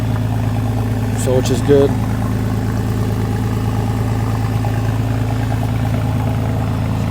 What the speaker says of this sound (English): Check how she sounds. What do you guys think about that with the straight exhaust?